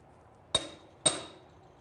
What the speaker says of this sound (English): tap the augment into place